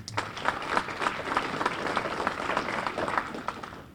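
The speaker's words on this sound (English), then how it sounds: "So again, a round of applause for Sean and his team." A round of applause for a staff team at a village State of the Village address, with fairly faint, even clapping from the room lasting a few seconds and no voices over it.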